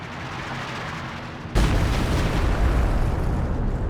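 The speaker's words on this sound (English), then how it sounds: "we're having a look at the revised B4 howitzer barrage here." B4 howitzer artillery barrage shells landing in a Company of Heroes–style strategy game, tanks in the area: a sudden loud boom at mid-clip followed by sustained rumbling blast noise, with no speech.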